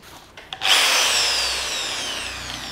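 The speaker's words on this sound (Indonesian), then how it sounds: "Kita coba pakai mata bor 10 mili yang tadi, yang punya Inco tadi" After a couple of faint clicks, a power drill fitted with a 10 mm Inco bit spins up and bores into hard wood, a loud, steady whine that eases slightly as it runs, with no talking.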